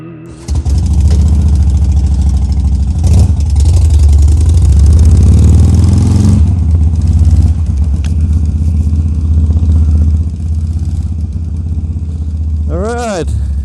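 Motorcycle engine starting up and settling into a steady, loud idle close by, running continuously with a brief clattering revs burst near the end, on a roadside in Malta.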